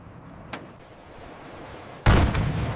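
Artillery cannon in the desert fires one loud, sudden blast near the end, preceded by a quiet rumble and a faint earlier click.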